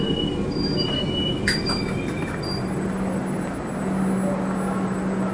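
A Joka-line metro train at Thakurpukur Bazar station in Kolkata, a steady close rumble of wheels on rail with a thin high squeal running throughout, with no voices.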